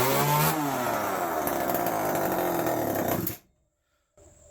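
A Homelite XL 101 chainsaw runs loudly at high idle with a steady buzzing drone, then cuts out abruptly into near silence before faint handling noise resumes.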